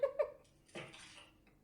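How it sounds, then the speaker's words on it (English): Coconuts being clicked until they crack in the Second Life video game give two quick, bright clinks, then a louder hollow crack that fades into a short rattle. "you have to click the coconuts until they crack"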